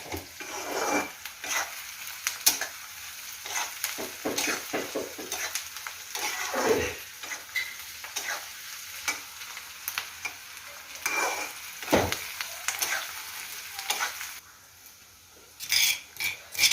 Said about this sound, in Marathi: कांदा आपला तांबूस भाजलाय आणि त्याच्यात पेस्ट घालून घेतली मिरची कोथिंबीरची